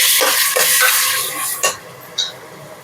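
Chopped onions and two tomatoes fry in a pan for a mushroom biryani cooked in a pressure cooker, a steady close sizzle with a few brief utensil scrapes and clinks.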